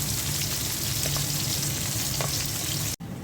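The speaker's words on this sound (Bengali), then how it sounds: "মশলাটা পাবদা মাছ রান্নার জন্য কষিয়ে নিলাম।" Spice paste sizzles steadily in a pan as it is fried down for a pabda fish curry, a loud, continuous close-up hiss with faint stirring, cut briefly near the end.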